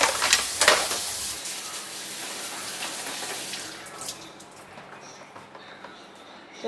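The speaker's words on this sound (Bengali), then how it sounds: "খুব ভালো করে এবার চিরুনিগুলোকে ধুয়ে নেব।" Combs are washed in water, with a close splashing gush at the start settling into steady running and sloshing water that gradually fades, and no talking.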